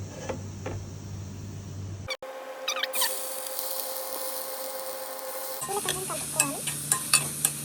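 Almonds frying in a pan for carrot halva, with spoon stirring and scraping over a steady sizzle; scattered clicks and scrapes grow busier toward the end, close and moderately loud.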